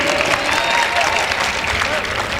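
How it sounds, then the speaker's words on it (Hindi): Audience at a mushaira poetry gathering claps in a dense, continuous wash of applause, with voices mixed into the crowd noise. "इजाजत दे तालियां बजाकर"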